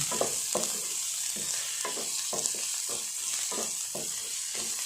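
Chopped onions fry in hot oil for a bitter gourd masala curry while a spoon stirs them in a rhythmic series of scrapes and clacks over a constant sizzle, close up, with no voices.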